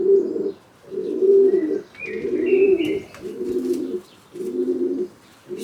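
Young pigeons coo in a whitewashed loft, a run of about six deep, rolling coos in steady succession, loud and close, with faint higher chirps overhead and no talking.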